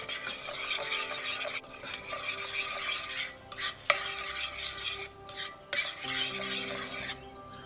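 Blueberry jam heating in a pan for a tart filling, stirred with repeated scraping strokes against the pan and a soft sizzle underneath, close up, with short pauses between bursts of stirring.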